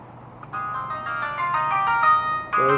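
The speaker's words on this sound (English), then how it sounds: "There's the phone, calling from the car wash." A phone ringtone plays a bright electronic melody, loud and close, for a couple of seconds.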